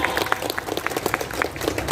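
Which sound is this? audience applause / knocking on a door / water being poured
audience applause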